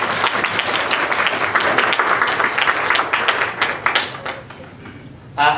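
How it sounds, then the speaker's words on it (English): Audience applause at an international arts and culture symposium, a steady wash of clapping that fills the room, thins out toward the end with a few scattered claps and a brief voice. "give yourself a big round of applause"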